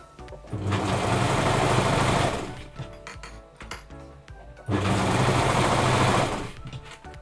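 A Brother 1034D serger stitches through fabric in two loud, steady mechanical runs, each about two seconds long, with a quieter pause of fabric handling and small clicks between them.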